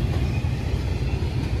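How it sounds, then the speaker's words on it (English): A huge freight train hauling J.B. Hunt shipping containers rolls past nearby, giving a loud, steady rumble with rhythmic wheel clatter and no voices. "this train is absolutely huge"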